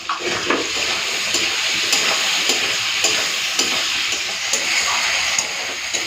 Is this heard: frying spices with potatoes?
yes